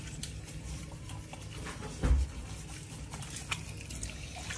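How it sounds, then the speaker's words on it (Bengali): Someone washes their face with water and rose face wash, with soft trickling and splashing close by and one brief louder splash, otherwise quiet. "দিয়ে ফেলো ফেস ওয়াশ, দিয়ে মুখ ধুয়ে ফেলো।"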